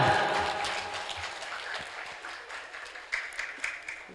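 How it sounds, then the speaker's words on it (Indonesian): An audience claps steadily and fairly loudly at an open Qur'an recitation exam and graduation ceremony at an Islamic elementary school, the applause fading slightly toward the end. "Masya Allah, boleh tepuk tangan"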